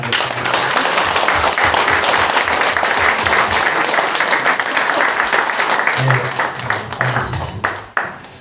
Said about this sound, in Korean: 감사의 박수 한번 보내드리겠습니다